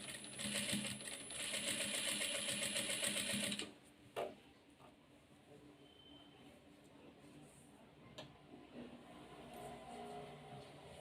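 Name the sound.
sewing machine stitching piping on a round neck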